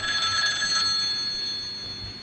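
A telephone rings indoors with a steady electronic trill that stays bright and even, close and fairly loud, with no talk over it.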